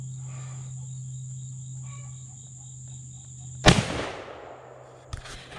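A single loud gunshot from a 50-110 big bore lever action rifle cracks out over steady insect chirping, followed by a long decaying echo and a faint later thud.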